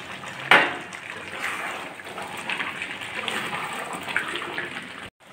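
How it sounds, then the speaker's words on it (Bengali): Water pours into a pot of chicken curry with potatoes and garlic, a close, steady splashing and gurgling rush lasting several seconds that ends abruptly. "এবার একটু জল দিয়ে দিচ্ছি"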